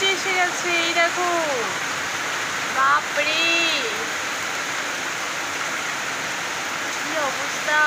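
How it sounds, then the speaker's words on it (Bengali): Heavy rain pours down in a steady, dense roar that fills the whole stretch, with a voice briefly exclaiming and speaking near the start and again around the three-second mark. "এবার তো আরো জোরে বৃষ্টি এসে গেছে"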